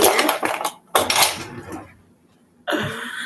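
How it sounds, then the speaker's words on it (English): A pot or pan lifted off a kitchen stove burner while cooking stuffed peppers, with clattering metal clinks and scrapes in two close bursts separated by a quiet gap, then a steady broadband hiss. "now I'm going to take off the heat."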